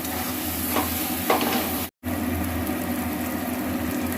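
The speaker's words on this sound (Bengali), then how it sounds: "মশলাটা একটু ভালো করে ভাজা হোক।" Ground spices with turmeric fry and sizzle in a pan for a chicken curry, a steady close hiss with a couple of faint stirring scrapes and a brief break in the sound.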